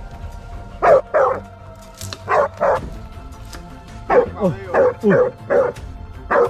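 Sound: dog barking

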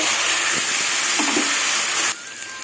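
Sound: garlic and green chillies crackling in frying oil

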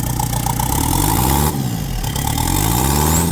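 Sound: engine revving

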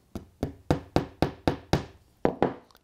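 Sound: hammering a tack into model railway track

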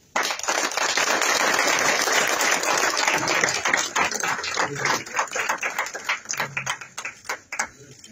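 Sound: audience applause at ophthalmology event

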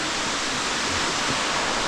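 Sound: waterfall, first of three falls in Meghalaya

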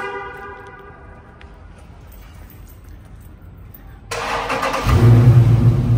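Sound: Dodge Scat Pack car engine cold start

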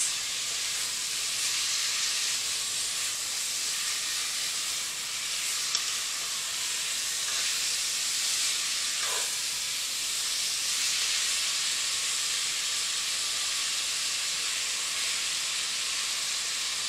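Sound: ground beef sizzling while being broken up in pot

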